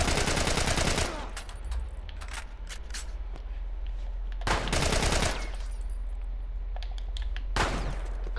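Gunfire crackles in The Last of Us Remastered as rapid automatic bursts at the start and later, mixed with sharp single shots and mechanical clicks over a low steady rumble.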